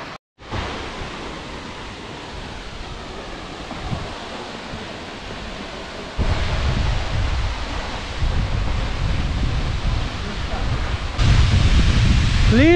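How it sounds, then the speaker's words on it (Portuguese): Continuous roaring wash of a waterfall, growing louder in steps as if getting closer, with no talking. "Linda cachoeira, hein, gente?"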